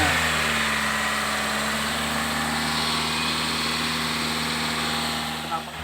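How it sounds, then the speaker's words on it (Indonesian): The engine of a 2016 Toyota Sienta is held steady at 2000 RPM during a PCV intake cleaning treatment, a continuous loud even hum with a bright hiss on top, close by, fading slightly at the very end. "RPM kita ganjel di 2000 dengan pipa pralon yang sudah kita buat"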